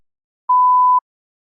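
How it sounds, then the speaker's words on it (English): A single clean electronic beep, a steady tone lasting about half a second, alone in silence, signaling the start of a TOEFL speaking response. "Please begin speaking after the beep."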